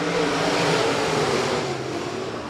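USRA B-Modified race cars roar together under green flag at Rapid Speedway, a dense, loud wash of engine noise from a pack of cars that stays steady and slowly fades slightly.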